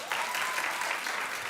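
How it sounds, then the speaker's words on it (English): A talk show studio audience claps in a brief, steady burst of many hands, fairly loud and continuous. "Clap if you do"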